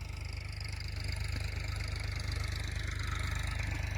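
A farm tractor's diesel engine chugs steadily at idle-like pace, its low rhythmic throb growing slightly louder as it draws nearer, with no talk over it.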